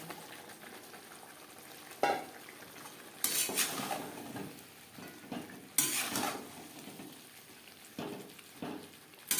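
Potato and cauliflower are stirred with spices in a pan over high to medium flame: a sizzle runs beneath repeated scraping clatters of a spoon against metal, coming in bursts with short pauses.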